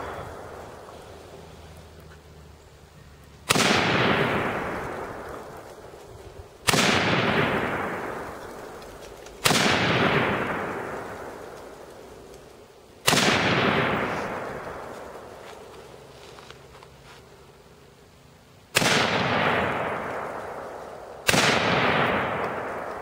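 Adams Arms AR-15 rifle fires six single shots at irregular intervals outdoors, each a loud sharp crack followed by a long echoing decay.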